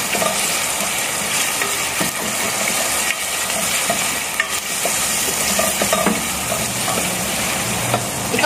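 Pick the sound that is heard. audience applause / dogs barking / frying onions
frying onions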